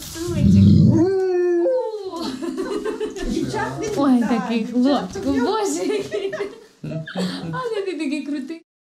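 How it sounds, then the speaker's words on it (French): A dog near a humanitarian aid front line in Ukraine gives a long rising howl, then whimpers and yelps in broken bursts, with people chuckling and talking around it. "c'est très magnifique chien"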